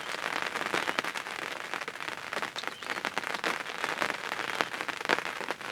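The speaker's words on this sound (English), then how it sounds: "The rain got really bad there for a little bit" Steady, dense rain pattering on a surface, with a constant hiss of close drops and no voices.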